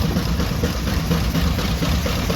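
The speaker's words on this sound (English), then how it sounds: "we got the engine belted up to the thresh machine" Steam engine belted to a threshing machine at a farm show in Rantoul, running as a loud, steady low rumble and chug that stays even throughout the brief stretch, with no voices.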